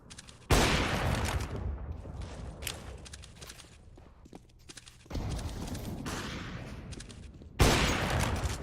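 Gunfire in a Counter-Strike: Global Offensive match on the Nuke map, with loud bursts of shots that start abruptly, continue in rapid clusters and return after a quieter stretch.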